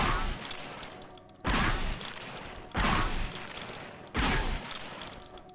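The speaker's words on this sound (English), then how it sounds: "Thinking you're firing 4 shells at once." Four loud, evenly spaced shotgun blasts from the Gunman Chronicles shotgun loading four shells at once, each a heavy boom with a decaying tail, heard alone.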